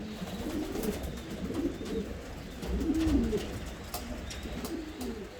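Pigeons coo in low, soft repeated phrases, several overlapping calls rising and falling against a steady outdoor background.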